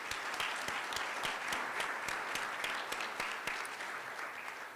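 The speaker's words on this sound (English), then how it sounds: "Let's give our graduates another big round of applause." Audience at an academic excellence ceremony applauding graduates, a steady wash of many hands clapping at a distance, fairly faint and continuous throughout with a few sharper individual claps standing out.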